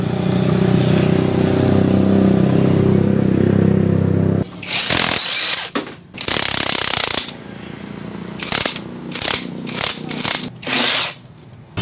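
A power tool whirs in short, irregular bursts, close and loud, as engine bolts are driven out of a neglected Motorstar trail motorcycle, with pauses of rustling between spurts.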